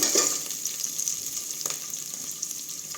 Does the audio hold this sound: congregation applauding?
no